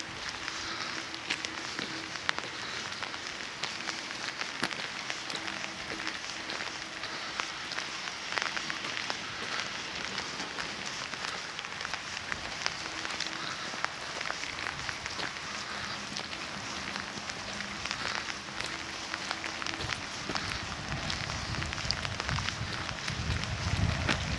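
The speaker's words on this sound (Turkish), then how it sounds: "Çok güzel yağmur yağıyor" Rain falls steadily near a village pide and bread oven, a constant soft hiss with faint crackles and ticks that holds evenly throughout and grows slightly fuller toward the end.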